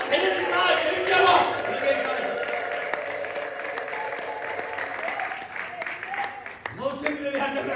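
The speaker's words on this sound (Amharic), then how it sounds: "እልልታ ጭብጨባ እልልታ ጭብጨባ" A church congregation bursts into ululation and clapping, the high trilling calls and dense applause loud at first, then thinning into scattered claps and a few voices toward the end.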